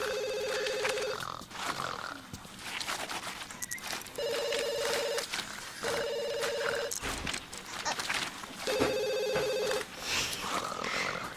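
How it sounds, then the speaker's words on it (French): A telephone ringtone in The Sims 2 rings in four repeated bursts, each about a second long, over a busy, loud game background with no talk. "c'est vraiment le téléphone, enfin la sonnerie la plus stressante du monde"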